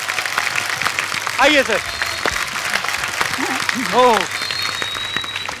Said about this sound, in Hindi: एक बार जोरदार तालियां हो जाए पूरी स्टार कास्ट के लिए